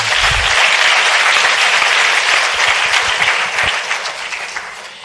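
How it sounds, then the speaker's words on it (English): Loud, dense round of applause from a conference audience for a science forum panel at an opening plenary, close and sustained, tapering slightly toward the end. "Let's give them another round of applause."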